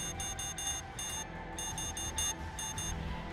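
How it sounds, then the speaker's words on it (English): Torpedo launch alarm aboard a ship in the Battlestar Galactica Deadlock space strategy game: rapid bursts of high electronic beeps in short pulsing groups with brief gaps, repeating over a low background hum. "There's a torpedo launch."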